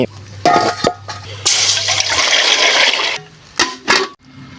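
Thai gaeng liang vegetable soup with bamboo shoots boils in a pot, a loud rushing, watery hiss lasting a couple of seconds, framed by short knocks and clunks close by.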